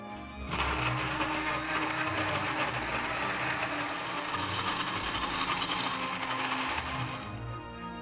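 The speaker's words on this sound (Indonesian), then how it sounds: "Selanjutnya, masukkan ubi ungu kukus ke blender. Tambahkan santan dan blender hingga halus." A kitchen blender purees steamed purple sweet potato with coconut milk, running as a loud, steady whirring drone for about seven seconds with no voices, then winding down at the end.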